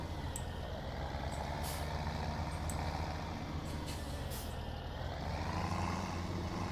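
A truck in the Farming Simulator 17 video game rumbles steadily while repeated short air brake hisses burst out over the engine noise, with no talking.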